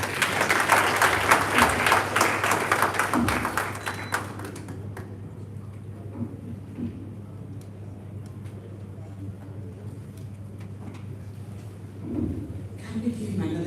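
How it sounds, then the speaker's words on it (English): Applause from the audience at a national council on works conference breaks out loudly, then tapers off after a few seconds into quiet room noise, with a brief murmur near the end. "Can we give him another round of applause?"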